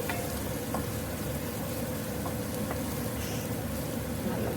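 Palak paneer cooks on a low gas flame with a soft, steady sizzle and bubbling that runs evenly throughout, close and unbroken, with no voices.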